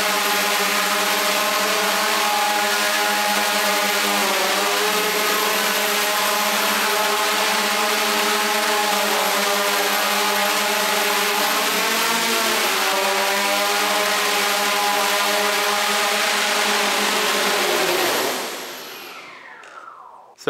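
Hexacopter drone in a Y6 propeller layout with a NAZA V2 controller and retractable landing gear, hovering inside a garage: a loud, steady multi-rotor whine with wavering pitch for about eighteen seconds, then spinning down as it lands.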